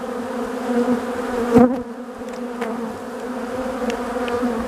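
Steady, close buzzing of many small honeybees at a hive hums continuously, with a brief louder bump midway and no voices.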